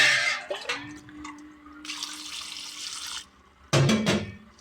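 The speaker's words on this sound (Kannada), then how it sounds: "ನಮಗೆ ಎಷ್ಟು ನೀರು ಬೇಕೋ ತಿಳಿಕಟ್ಟು ಅಷ್ಟು ನೀರು ಸೇರಿಸ್ಕೊಳ್ಳೋಣ." Water pours in bursts into a cooking pot of soaked chickpeas with ivy gourd and tomato, a close rushing splash broken by pauses and ending in a heavier gush.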